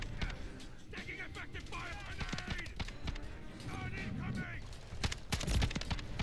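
Shotgun fire from exploding slugs in a video game, heard as several sharp bursts, loudest near the end, over a busy game soundscape with a voice speaking underneath.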